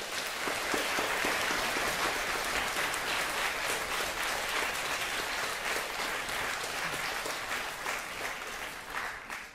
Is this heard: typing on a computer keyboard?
no